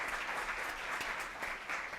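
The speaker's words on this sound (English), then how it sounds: "So we can give them a round of applause." A crowd applauds at a campus talk, a dense, steady wash of clapping that holds at an even level from start to finish, with no voices rising above it.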